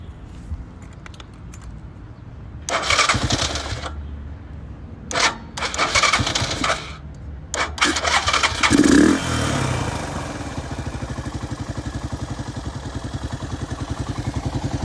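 Repaired motorcycle engine after an oil change, with a few short bursts of cranking and starting before it catches and settles into a loud, steady, pulsing idle that continues to the end.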